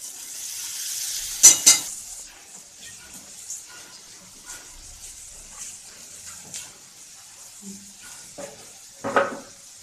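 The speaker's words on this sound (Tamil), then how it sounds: "இப்போனா நம்மளோட வேக வச்சுக்கிற காலிஃப்ளவரை போட போகிறோம்." Boiled cauliflower goes into a hot pan of curry base: a burst of hissing sizzle at first, then a spoon scraping and stirring in scattered clinks that fade to a quieter simmer.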